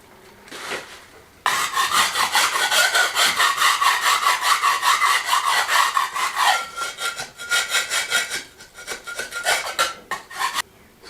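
Loose material being scraped off an old wall, heard as rapid, rhythmic rasping strokes, loud and close, in a long continuous burst that turns into shorter uneven scrapes toward the end.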